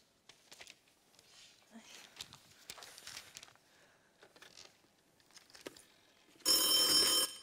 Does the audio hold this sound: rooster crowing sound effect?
no